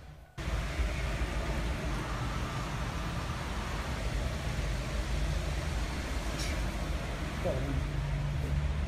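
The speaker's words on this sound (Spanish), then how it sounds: "los coches y tal se escuchan mucho" Steady street traffic drones as a continuous low rumble of passing cars, heard from inside an abandoned, wrecked hotel in Mexico, with a faint higher tone rising briefly near the end.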